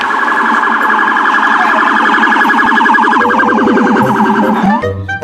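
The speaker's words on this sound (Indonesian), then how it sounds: "Yang ini ada mobil polisi." A toy police car siren wails loudly and continuously in a fast electronic warble, ending with a brief clatter and a shift in tone near the end.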